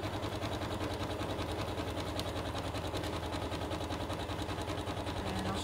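A sewing machine stitches zigzag along a jelly roll rug, its fast, steady mechanical whirring and needle clatter running close and unbroken throughout.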